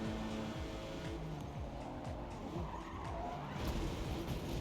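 BMW M4 Competition in Forza Motorsport skidding at the Nürburgring, a steady roar of engine and tire squeal running throughout with a loud surge near the end, no talk over it.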